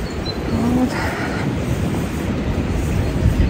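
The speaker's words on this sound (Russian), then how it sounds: "Ветер холодный, такой прям ледяной, порывами переметает все листву." Cold, gusty wind rushes outdoors, sweeping fallen leaves in a steady broadband roar close to the microphone, with buffeting on the mic throughout.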